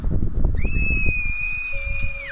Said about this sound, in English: As a child star, Barbara was famous for her scream.